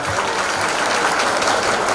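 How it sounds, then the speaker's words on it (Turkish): Diners at an iftar dinner in Istanbul give a big round of applause, a close, steady, even stretch of many hands clapping with no talk over it. "çok büyük alkış istirham ediyorum"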